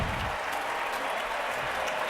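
Minnesota Twins home crowd at a 2010 ALDS playoff game against the Yankees cheers a leadoff single, producing a sustained, moderately loud roar of applause and shouting with no commentary over it.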